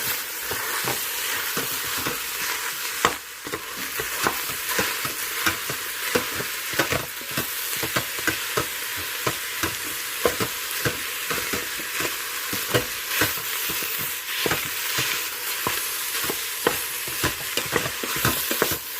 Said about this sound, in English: Let it saute for about 5 minutes or so. A little bit longer probably with more meat.